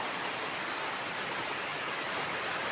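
River water flows steadily at a spot where clothes are washed, a constant broadband rush heard close and alone.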